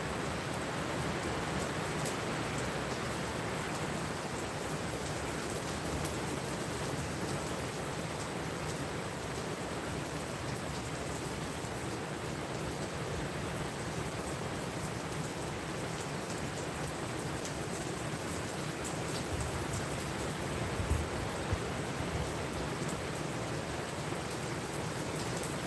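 Steady rain patters continuously on surfaces, an even hiss of drops lasting throughout with no voices.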